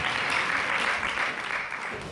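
An audience at an event on female genital mutilation applauds after a speech, giving a steady, full burst of clapping that tapers slightly at the close.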